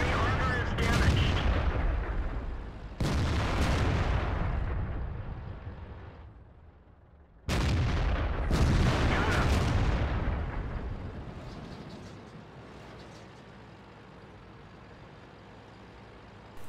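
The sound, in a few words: tank cannon firing in World of Tanks video game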